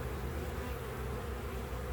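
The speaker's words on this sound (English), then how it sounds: "So Carnivalian is the breed of bee that I have." Carniolan honey bees buzz steadily at a hive, a close, dense and continuous drone with no voices over it.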